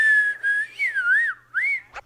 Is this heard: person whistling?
yes